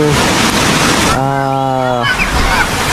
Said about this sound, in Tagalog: Medyo malakas yung alon pero tama lang